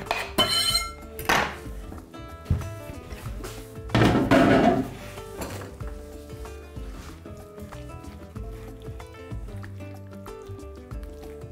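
Utensils clatter and scrape in a pot as ingredients for beef ojakhuri are mixed, with a few louder clanks and knocks early on that settle into quieter, sparse kitchen sounds.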